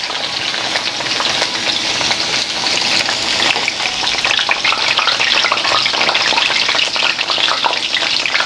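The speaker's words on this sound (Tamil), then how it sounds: "உருளைக்கிழங்கு பொரிஞ்சிட்டது" Oil sizzles and bubbles vigorously as potatoes deep-fry, a dense continuous crackling hiss at close range with no voices.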